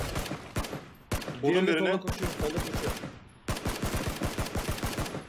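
Rapid bursts of gunfire from the PUBG battle royale video game, sharp repeated shots in quick clusters across the clip, loud and close, with a voice talking over them.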